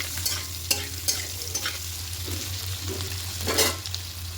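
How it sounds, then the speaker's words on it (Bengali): Potatoes frying in oil with turmeric and salt, a steady close sizzle broken by occasional sharp scrapes and clinks of a spatula stirring the pan. "লবণ আর হলুদটা দিয়ে একটু হালকা করে লাল করে আলুগুলোকে ভেজে নেবো"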